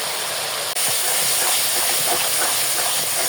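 Salt, chili powder, turmeric and ground coriander sizzle in a hot pan for a country chicken curry, a loud, steady close hiss that drops out for an instant early on and then runs on unbroken.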